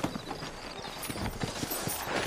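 Horse hooves clip-clop in Red Dead Redemption's New Austin, a steady walking rhythm of soft repeated hoofbeats close by over a busy ambient game background.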